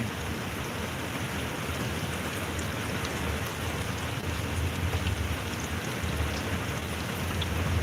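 Heavy rain pounding down during a severe tornado warning in SE Oklahoma, a dense unbroken hiss heard from inside a trailer, loud and steady for the whole stretch with no speech.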